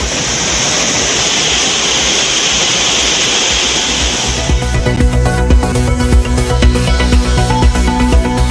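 A flooding Courtallam waterfall gives a loud, dense, continuous roar of rushing water. About halfway through, music cuts in over the roar.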